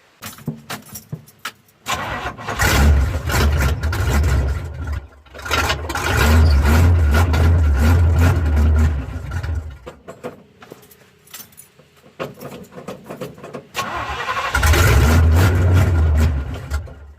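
A car engine cranks and catches repeatedly, each try swelling into a loud, rough low rumble for a few seconds before dying, with a final surge at the end and keys jangling close by.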